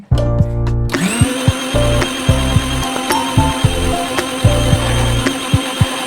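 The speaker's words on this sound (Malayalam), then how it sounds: "എന്നിട്ട് ഇത് വീണ്ടും ഒന്ന് അരച്ചെടുക്കലാന്ന്." A mixer grinder runs loud and close, grinding a spice paste of chilli, turmeric and coriander powders, its motor whine steady with repeated rhythmic thumps as the jar contents churn.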